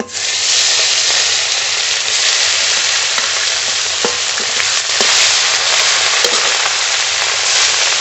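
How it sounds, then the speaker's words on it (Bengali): Rohu fish pieces fry in a wok with a loud, steady oil sizzle that fills the whole stretch, with a few faint clicks and pops, and no voices. "আরও মাছ কড়াইতে দিয়ে দেবো"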